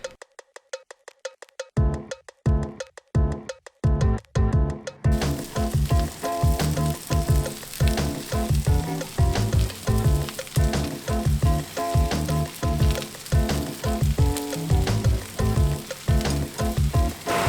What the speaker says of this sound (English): I'm also gonna put some mushrooms and some red onions on the grill just for flavor